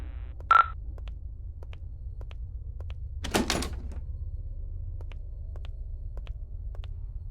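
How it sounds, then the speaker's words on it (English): An asylum's front door in an indie horror video game opens with a sharp click of the latch, then a brief creaking swing, while faint regular ticks sound over a low steady hum. "Nice, the door was unlocked."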